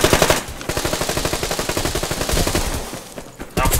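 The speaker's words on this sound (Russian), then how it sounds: "там стреляет кто-то." Rapid automatic gunfire rattles in long, evenly spaced bursts in the online shooter Survarium, loud and close with only a brief lull before another burst near the end.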